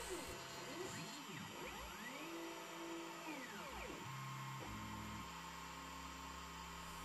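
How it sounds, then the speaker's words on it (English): CNC machine cutting a rectangular mounting hole for a 7-segment display in a control panel, its motor whining in sweeping rising and falling tones over a steady hum, faint throughout. "it's now just starting the cut for the rectangular mounting hole ready for the 7-segment display"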